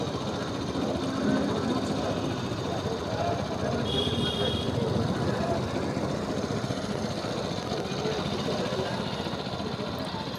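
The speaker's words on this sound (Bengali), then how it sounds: "আজকে আমি নতুন পেট্রোল পাম্প চালিত একটি মেশিন দিয়ে ভুট্টার জমিতে পানি দেব।" A new petrol-powered 7 hp water pump engine runs steadily while irrigating a maize field, a continuous rough mechanical drone with even loudness throughout, no voices over it.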